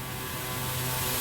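Steady, loud turboprop engine drone of a Pilatus PC-12 climbing out just after rotation on takeoff, a continuous broadband roar with low tonal hum, heard from inside the aircraft.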